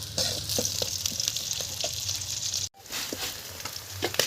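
Onions and garlic frying in oil on a wood-fired stove for a fish curry, a steady close sizzle with light stirring clicks, briefly cut off.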